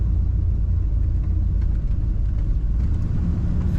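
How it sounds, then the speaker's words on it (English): A lifted 1975 Chevrolet Silverado rolls down the road on mud tires, giving off a steady, loud low-end rumble and road drone that holds without a break and has no talk over it. "it doesn't ride that bad on the mud tires and a big lift"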